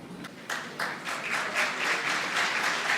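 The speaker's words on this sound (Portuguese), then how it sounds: "Auditório aplaude o painelista." Auditorium audience at a rural congress panel bursts into applause for a panelist, scattered claps at first swelling into full, sustained clapping close by.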